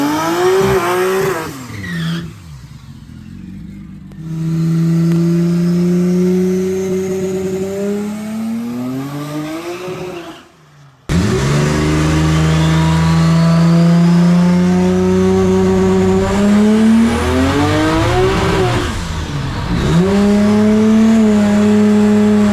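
An American Toyota Supra drag car at a quarter-mile drag race, its engine revving hard and rising in pitch as the tires spin and squeal on the track, with a brief lull before another long, loud full-power run.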